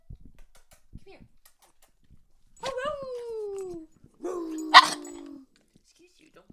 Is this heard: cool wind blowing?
no